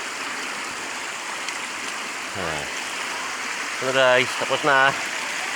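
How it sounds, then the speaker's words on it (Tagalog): Strong river water flows in a continuous, moderately loud rush, and someone speaks briefly near the end over it. "Tingnan mo ang tubig. Ganda, no? Lakas ang tubig."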